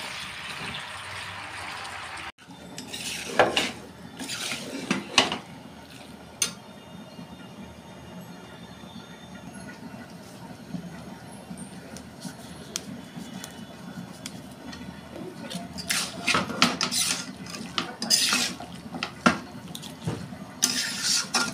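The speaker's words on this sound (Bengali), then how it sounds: "এবার মাছের ডিমগুলো দিয়ে দেবো আমি, দিয়ে একসঙ্গে সব শুধু নাড়াচাড়া দেবো।" Fish roe tossed with chopped Malabar spinach stalks in a pan for a Bengali chorchori, a steady frying hiss with repeated scraping strokes of a spatula, close and moderately loud, with no talking.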